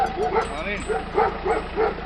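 A dog barks and yips repeatedly in quick, high-pitched bursts, close by and fairly loud, with a few whimpering notes between barks.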